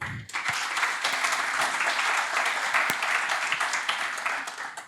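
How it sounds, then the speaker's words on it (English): A conference audience at PyCon PT 2025 gives a warm round of applause for a speaker, steady dense clapping from a large room that holds evenly for several seconds. "let's give a warm round of applause for Pablo."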